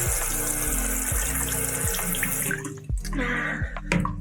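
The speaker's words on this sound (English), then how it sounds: "if you just switch this, you can then use the water from the bidet" Water runs steadily from a sink bidet attachment in a German apartment restroom, a continuous close hiss with faint plumbing thumps and a few small knocks near the end.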